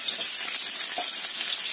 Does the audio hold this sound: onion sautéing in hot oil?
yes